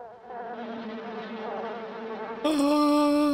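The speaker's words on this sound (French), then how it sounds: "Toujours ces putains de mouches." Flies buzzing in the 1979 horror film Amityville, a close, droning swarm hum that wavers in pitch and then jumps to a louder, sharper whine near the end, with no voices.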